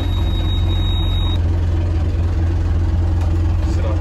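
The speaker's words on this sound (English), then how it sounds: "So I'm going to start the engine, which hasn't been started in a while." A sailboat's engine, left unused for a long time, runs with a steady, loud low rumble and a constant hum that continues unchanged to the end.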